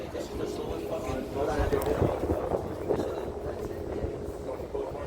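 A steady low mechanical rumble of a Staten Island ferry's engines with rushing wind, continuous throughout, while a voice talks over it.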